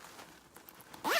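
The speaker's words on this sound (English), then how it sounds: "Let's open the zipper." A zipper on a Vera Bradley bag with a leather-trimmed pull is drawn open in one quick, close rasp near the end, after a quiet stretch of light handling.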